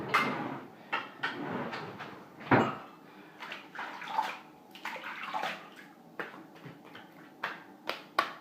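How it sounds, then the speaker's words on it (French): Water splashing and running as a shaving bowl is rinsed for a traditional wet shave, with irregular close splashes and clinks of the bowl and no talking. "Je rince un petit peu."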